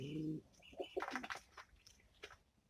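Capuchin pigeons give a short, low throaty coo, followed by softer burbling calls and light rustling close by.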